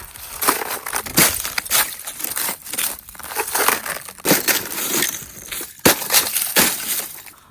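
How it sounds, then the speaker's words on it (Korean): Ice is broken and crushed outdoors in freezing weather, with repeated loud crunching and cracking bursts in an irregular rhythm, close and continuous, with sharp shattering snaps throughout. "밖에서 얼음 깨고 한참 놀았더니"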